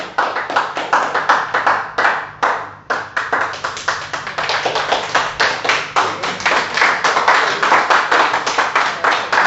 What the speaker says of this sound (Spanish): puede brindarle un fuerte aplauso al Señor